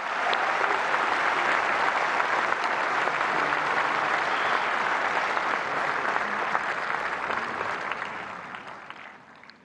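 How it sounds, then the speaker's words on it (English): Dense, sustained audience applause for the Prime Minister at the opening ceremony of the India AI Impact Summit 2026, a large hall of clapping holding steady for several seconds before fading out. "Give a big round of applause for the Honorable Prime Minister."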